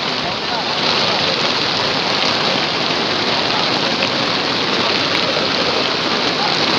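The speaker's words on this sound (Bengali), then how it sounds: "এমন বৃষ্টি শুরু হয়েছে।" Heavy rain pours steadily, a dense, even hiss that stays loud throughout with no letup.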